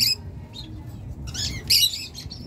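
A sun conure parrot gives shrill, raspy squawks and chirps in short bursts, close and fairly loud, with no talk over them.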